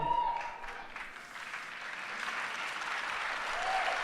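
Live audience applauding steadily at a Destiny 2 gameplay reveal event, a dense wash of clapping that dips briefly and swells again, heard alone without talk.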